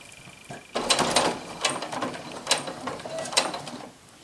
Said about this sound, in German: senke das Nähfüßchen und nähe jetzt einen halben Zentimeter vor